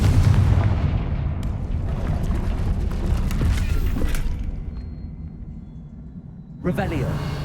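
A fiery Confringo spell blast in Hogwarts Legacy, a long rumbling boom that fades out over several seconds before a second burst hits near the end, with a voice heard among the noise.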